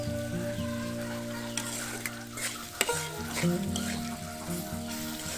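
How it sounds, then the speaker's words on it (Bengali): Salt, turmeric and ground chili, coriander and cumin are sautéed with fresh stem amaranth greens in a pan, producing a close, continuous sizzle broken by stirring scrapes and occasional sharp clatters. "মরিচের গুঁড়া আর ধনে গুঁড়া আর জিরে গুঁড়াটা আমি লবণ আর হলুদ দিয়ে এটা খুব ভালো করে কষিয়ে নিয়েছি"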